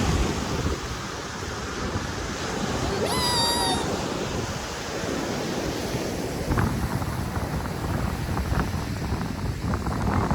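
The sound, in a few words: sea waves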